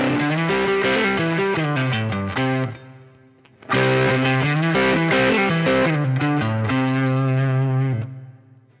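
An electric guitar played through a Keeley Muse Driver overdrive pedal, with two phrases of sustained, mildly distorted chords and notes separated by a short pause, loud and close with a slight chorus-like shimmer.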